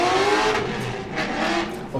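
A V8 car doing a burnout on Valino tires at a HOTPIT Autofest event at Kern County Raceway, engine revving loud and steady with tire squeal and skidding running throughout the clip.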